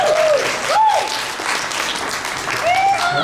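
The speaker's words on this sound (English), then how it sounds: "give yourself a round of applause." Audience at a comedy show applauding loudly and steadily throughout, with a few whistles rising over the clapping.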